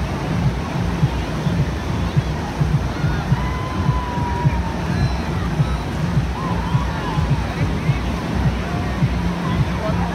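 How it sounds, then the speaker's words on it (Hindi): Steady roar of surf rolling in and breaking on a Goa beach, a dense continuous wash of water with faint voices murmuring in the background. "लहरें देख"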